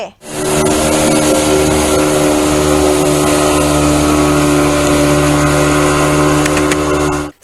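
Motorboat racing across a reservoir ringed by hills at Kinnerasani, its steady, loud engine drone holding constant for the whole stretch with no talk.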